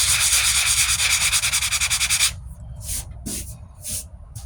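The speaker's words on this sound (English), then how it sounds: "that smoothing is the whole sanding process" Close, rhythmic sanding strokes on a 1998 Ford Ranger wheel arch repair, using 40 to 80 grit, scrub steadily for about two seconds, then stop, followed by a few scattered short scrapes and rustles.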